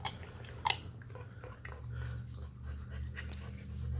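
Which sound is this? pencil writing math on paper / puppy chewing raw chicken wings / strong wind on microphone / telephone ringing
puppy chewing raw chicken wings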